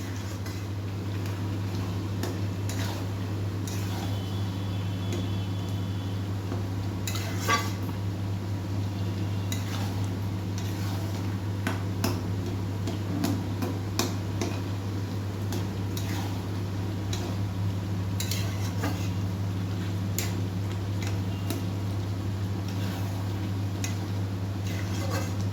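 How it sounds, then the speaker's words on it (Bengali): Curry with lentil dumplings (bori) stirred in a pan: intermittent scraping and soft clinks of a spoon against the pan over a constant low hum, no voices. "দিয়ে ভালো করে নাড়াচাড়া করে মিশিয়ে নেবে।"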